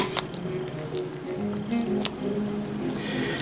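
Wet, squishy stirring as chili seasoning is worked into a pot of chili in a crock pot, steady and close with soft sloppy squelches and faint clinks.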